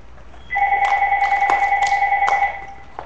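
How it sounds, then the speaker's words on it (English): An indoor telephone rings with a steady electronic two-tone warble lasting about two seconds, loud and near, with a few faint clicks over it and nothing else around it. "telephone's ringing"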